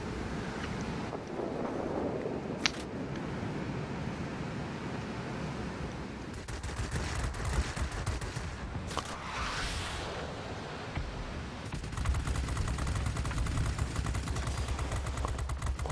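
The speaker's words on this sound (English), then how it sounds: "That damage output from these 20mm cannons is impressive." Rapid bursts of 20mm cannon fire from a Tier X Su-10 bomber in World of Warplanes, long sustained strings of fast shots over a constant engine and wind drone.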